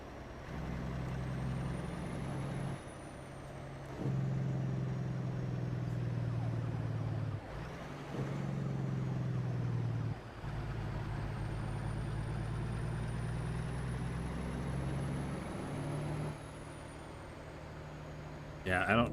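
Steady drone of a truck engine with exhaust rumble in the video game American Truck Simulator, shifting pitch a few times as it changes gears, continuous and fairly close.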